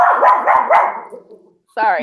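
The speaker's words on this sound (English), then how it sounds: "Oh my god. That's my dog." A pet dog named Lola lets out a quick run of three or four close, loud barks, then a brief whine, with a person speaking over the end.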